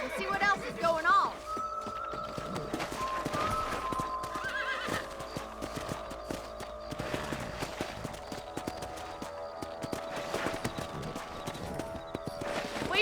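Horse hooves clip-clop steadily while a horse whinnies, with soft background chatter in a game-like outdoor scene from Red Dead Redemption.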